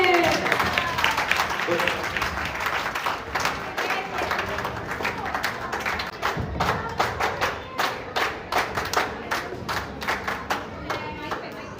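Audience applause at an outdoor street play, loud continuous clapping from a crowd that settles into a rhythmic beat, with voices mixed in.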